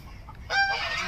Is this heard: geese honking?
yes